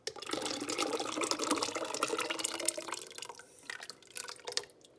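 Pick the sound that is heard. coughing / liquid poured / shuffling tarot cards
liquid poured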